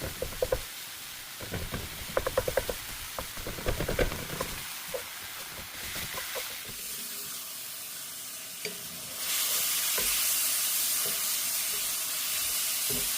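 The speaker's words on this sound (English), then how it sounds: "break it apart, and start cooking the ground beef" Ground beef is broken apart and stirred in a pan, with a run of scraping, clattering utensil strokes over a soft sizzle, then a steady, louder hiss of frying.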